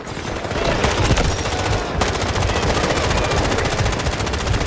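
Rapid automatic gunfire in the Garena Delta Force shooter, loud and close, in long sustained bursts with a brief break near two seconds before firing resumes.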